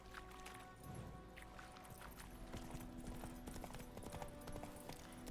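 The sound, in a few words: horse Roach galloping, from video game Witcher 3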